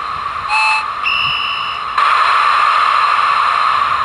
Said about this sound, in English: turn on the loco.